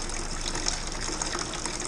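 Blood orange puree pours into a beer fermenter during a homebrew batch, a steady close gushing splash of thick liquid with no talk.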